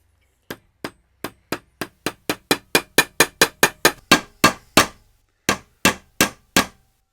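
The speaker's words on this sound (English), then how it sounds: "with a sharp chisel is just take the rest of the material out so that the nut fits perfectly in place" Hammer striking a sharp chisel to cut wood from a sword handle so the nut fits: about eighteen sharp, close knocks in a steady rhythm, growing louder, then a short pause and four more blows, with no talking.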